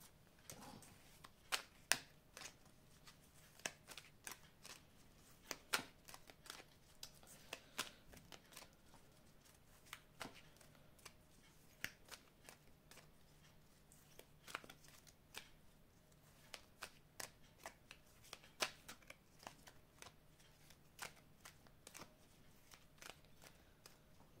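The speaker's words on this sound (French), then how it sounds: "Alors je vais couper le jeu et je vais recouvrir." A deck of oracle cards is shuffled and cut, giving faint, close crisp riffles, flicks and taps scattered irregularly across a quiet stretch.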